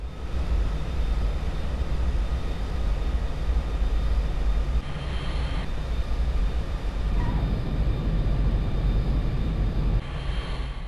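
Navy plane making a rough video-game landing: steady, loud engine roar fills the whole stretch with a few abrupt shifts in tone as it touches down, no talk.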